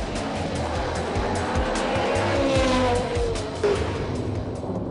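A Ferrari 430 GT3 and other GT race cars in an Australian GT Championship race at the Clipsal 500 produce a steady, loud engine roar with rising and falling revs and a brief tire squeal, passing close by.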